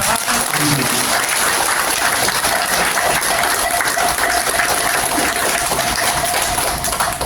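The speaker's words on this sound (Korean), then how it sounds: "스님의 법설 뜨거운 박수 받으면서 여기서 마치도록 하겠습니다" Sustained audience applause fills a hall after a monk's Buddhist sermon at a memorial dharma service, steady dense clapping at a constant loud level throughout with no break.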